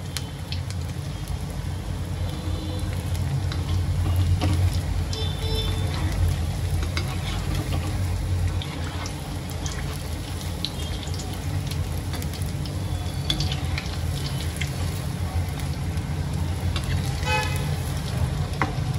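Potato bites deep frying in oil until golden brown, giving a steady, dense bubbling sizzle that carries on evenly throughout at close range with faint clatter here and there.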